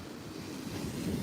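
Ocean waves break on a sloped beach shore in a continuous rolling wash of surf that swells slightly louder toward the end, with some wind noise and no talking.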